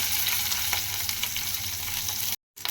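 Garlic cloves fry in oil with black cumin and dried chili, giving a loud, continuous close-up sizzle with small crackles, then a brief cutout near the end.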